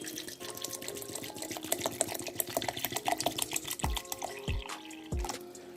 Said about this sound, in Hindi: अब हम इसमें पानी ऐड करते हैं